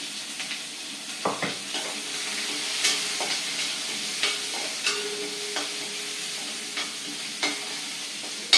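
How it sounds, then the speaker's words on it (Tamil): Onion and green chili sautéing over a medium flame for a tomato pachadi, a steady frying sizzle punctuated by short scraping stirs and light clicks, close by with no talking. "வெங்காயம் வதங்கி வரைக்கும் மீடியம் ஃப்ளேமில் எடுத்து வதக்குவோம்"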